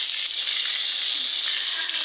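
Rohu-style fish pieces frying in hot oil in a wok, a steady, fairly loud hiss of sizzling that runs unbroken throughout, with no talk over it.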